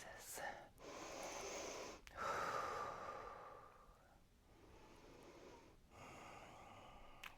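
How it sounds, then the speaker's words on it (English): Slow, audible breaths during a gentle yoga session, soft inhales and exhales rising and falling over several seconds in a quiet room, alone without talk. "Couple of breaths."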